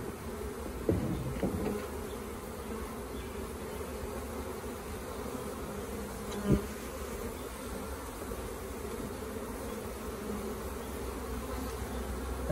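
Honeybees from a nuc colony being installed in a hive, a steady close droning buzz that holds for over twelve seconds, with a couple of brief knocks and no talking.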